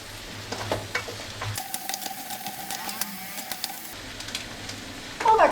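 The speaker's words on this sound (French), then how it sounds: "on laisse mijoter ça pour que ça cuise gentiment" Finely sliced yellow and green chilies simmer gently in a pan, making a soft, low bubbling sizzle with scattered light ticks and a brief louder clatter at the end, no voices.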